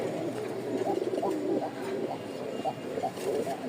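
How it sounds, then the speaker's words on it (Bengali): A sky-blue Rajshahi gol fotka pigeon coos nearby in a run of soft, repeated throaty calls that rise and fall in a steady rhythm. "প্রচুর ডাক এই সব কবুতরের"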